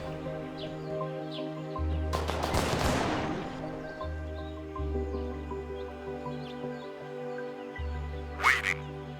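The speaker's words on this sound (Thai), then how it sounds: "โอ้โหยิงกันสนั่นมาก" Gunfire in the video game The Last Haven: a dense burst of rapid shots in the middle, with a later single crack. It plays over a steady layered game soundtrack of tones and low pulses, at moderate loudness, with no speech.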